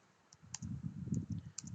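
A computer mouse gives a few quick, faint clicks in a quiet room, some in close pairs, over a low murmuring background.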